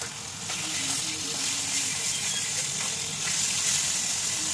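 Hilsa fish frying gently in a pan for a Jamai Shashthi meal, a steady broadband sizzle and hiss running close and continuous throughout.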